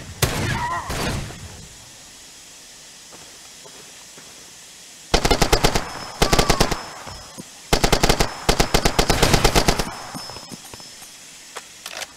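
Bursts of rapid automatic gunfire in the video game Far Cry 2, loud and close, coming in several rattling volleys after a quieter stretch, with a voice heard briefly at the start.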